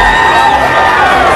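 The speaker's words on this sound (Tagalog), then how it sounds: "Hiyawan ng mga tao sa bansang Australia dahil sa husay ng Pinoy" At a boxing match in Australia, a crowd roars and cheers for a Filipino boxer, a loud, continuous wall of voices with shouts and whoops rising over it.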